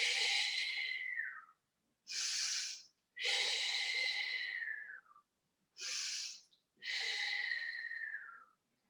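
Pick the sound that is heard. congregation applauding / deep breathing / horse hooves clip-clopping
deep breathing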